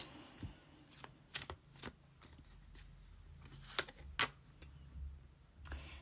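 Belline oracle cards being shuffled by hand for a reading, a run of crisp riffling bursts and soft slaps at an uneven pace, close and clear over a low room hum.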